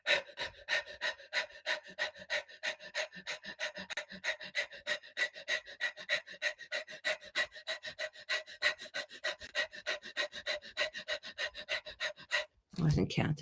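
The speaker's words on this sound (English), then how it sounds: "So your sounding is almost like a bellows." Rapid bellows-like breathing exercise: forceful rhythmic exhalations pumping steadily at about three per second for roughly twelve seconds, close and loud, then a brief pause and a deeper breath.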